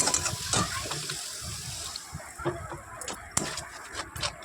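Water splashes and trickles into a pan of spiced tomato masala during home cooking, a close, steady pour with a few sharp clinks, no talking.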